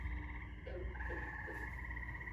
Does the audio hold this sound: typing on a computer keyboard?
no